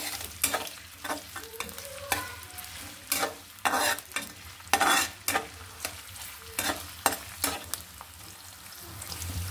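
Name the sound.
frying chopped onion and green chillies in a pan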